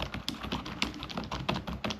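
Typing on a computer keyboard at a home office desk, a steady stream of crisp, closely miked key clicks in an irregular rhythm, with no talking.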